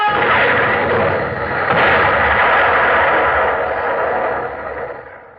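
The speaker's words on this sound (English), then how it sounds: "Mr. Quinn, you may fire at will." Heavy, continuous rumbling cannon fire from a ship's broadside in an old radio drama, loud and dense with sustained booming that fades slightly near the end, no talk over it.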